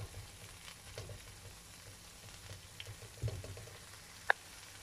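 A creamy spicy sauce for roast chicken simmers and thickens in a pan, giving a faint, steady low sizzle and bubbling with occasional soft pops and one sharp tap.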